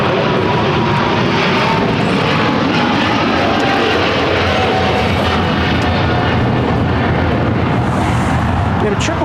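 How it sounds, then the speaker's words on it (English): An EVA Air Boeing 777 roars loudly at LAX, a dense, sustained jet engine rumble filling the whole clip with steady broadband power and no break. "the 777 is now one of the louder airplanes at LAX"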